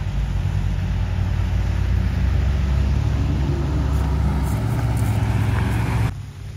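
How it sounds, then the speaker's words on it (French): Classic and sports car engines rumble steadily and close by as the cars roll slowly into a concours d'elegance in the rain, a continuous low drone that cuts off abruptly near the end. "les voitures elles arrivent tout doucement"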